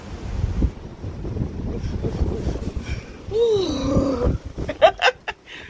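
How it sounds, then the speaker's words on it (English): Gusty wind buffets the microphone with a rushing, wave-like roar, joined by a few brief high chirps and rattles toward the end. "I love that sound because it reminds me of the beach. It sounds like ocean waves to me."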